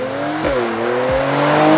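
A 2019 Mercedes-AMG C43 exhaust in Sport Plus mode gives a loud, close engine note that rises steadily as it revs, with two quick sharp pops or gear-change blips part way through and no talking.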